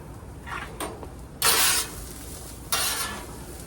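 Hash browns get mixed with seasoned salt on a Blackstone griddle: faint sizzling runs beneath two loud, short scraping bursts of a spatula on the flat steel top, plus a few lighter scrapes earlier.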